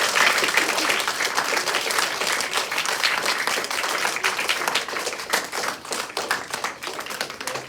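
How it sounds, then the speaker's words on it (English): A roomful of people claps steadily and loudly for several seconds, the dense applause thinning slightly toward the end. "let's hear a nice round of applause for this"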